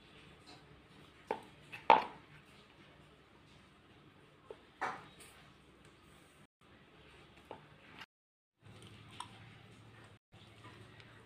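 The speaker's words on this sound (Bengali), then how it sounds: "কাপ দিয়ে আমি বিস্কুটের মতন করেই কেটে নেব" A cup is pressed through rolled atta peanut biscuit dough, giving a few scattered soft thuds and clicks on the work surface against a quiet background, the strongest knocks coming early on.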